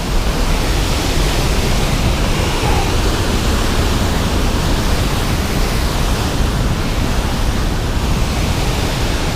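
A waterfall along a mountain hiking trail near a campground, a loud, steady broadband roar of rushing water that fills the whole stretch without a break and with no voices.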